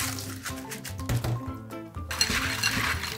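Clams stir-fried in a pan clink and rattle against the metal in quick bursts, mixed with wet sloshing and sizzling liquid, close and fairly loud.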